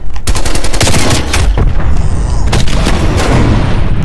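Dense, loud automatic gunfire rattles continuously in an online Xbox Series match of Call of Duty: Cold War, rapid bursts from a KRIG 6 rifle and other weapons overlapping with heavy booms, close and relentless.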